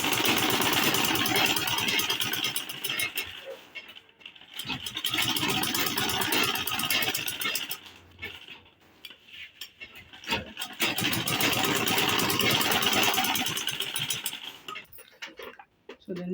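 Sewing machine topstitching a card wallet, a fast close mechanical whir running in several bursts separated by brief pauses.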